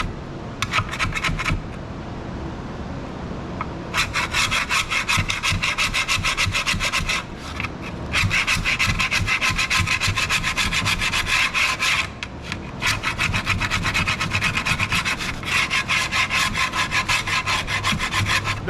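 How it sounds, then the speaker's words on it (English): Carbide-edged gasket scraper working old gasket material off a Pontiac 400 engine block: close, steady rasping strokes in long repeated bursts with brief pauses between runs. "Do yourself a favor and get some sort of carbide edged gasket scraper."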